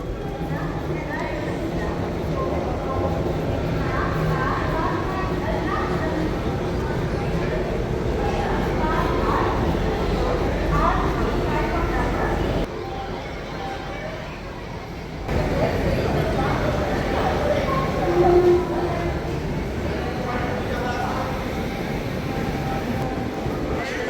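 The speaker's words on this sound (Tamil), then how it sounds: "இது வந்து விவேக் சூப்பர் ஃபாஸ்ட் எக்ஸ்பிரஸ்." The Vivek Superfast Express, a very long train, rumbles steadily at Coimbatore railway station amid platform ambience, with a brief dip in the noise midway and people talking throughout.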